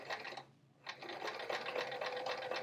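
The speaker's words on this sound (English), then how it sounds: "Now just sewing right around the edge like how we did the handles." A sewing machine stitches around the edge of a fabric travel art folio, a close, rapid mechanical chatter that stops for a brief moment and then resumes steadily.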